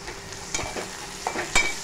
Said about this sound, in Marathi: कांदा लालसर करून घ्यायचा आपल्याला